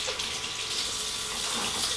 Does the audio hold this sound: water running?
yes